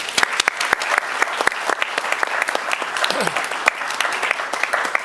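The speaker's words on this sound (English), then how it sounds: "And maybe we all applaud them as well." Sustained audience applause closes a panel discussion on prosecuting the crime of aggression in Ukraine, a steady dense clapping wash with a few sharper nearby claps standing out, loud and continuous throughout.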